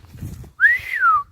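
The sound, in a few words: person whistling to call a dog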